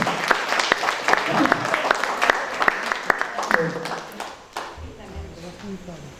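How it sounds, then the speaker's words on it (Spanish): Audience applause in a hall, crisp individual claps standing out from a dense round, fading after about four seconds into murmuring and talking voices. "Vamos a darle un aplauso"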